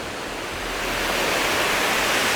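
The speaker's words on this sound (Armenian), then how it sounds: "ջրվեժը," The waterfall at Jermuk roars as a steady, loud, broadband rush of falling water, swelling slightly and continuing without a break, with no voices over it.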